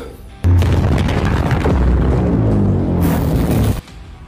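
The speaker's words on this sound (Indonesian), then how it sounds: "Tembakan meriam nuklir." A nuclear cannon energy blast from an animated cultivation fantasy battle hits with a sudden loud boom, then a sustained roaring rumble for about three seconds that cuts off abruptly.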